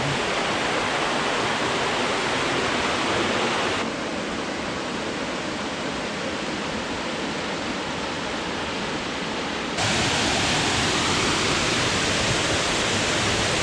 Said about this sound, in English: You can sure hear the falls.